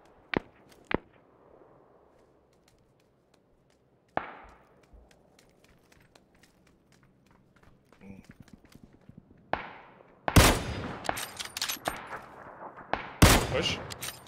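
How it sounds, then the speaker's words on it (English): Sharp gunshots in the battle-royale game PUBG crack out in scattered single reports and dense bursts, growing louder and more rapid toward the end, with voices chatting between the shots. "Shooting that guy down to the right."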